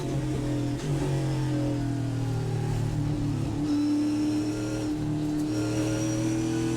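A TA2 Trans Am race car driven by Caleb Schrader at Portland International Raceway, heard onboard: a loud, continuous engine drone that rises and falls in pitch through shifts and throttle changes.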